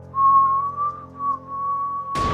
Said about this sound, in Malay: tiba-tiba dia dengar bunyi orang bersiul